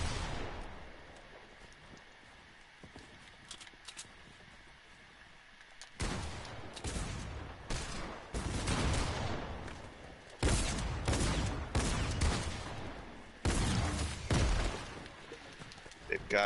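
Video game gunfire crackles in dense, loud bursts and volleys after a quieter opening stretch, close and continuous with short gaps, while voices talk over it.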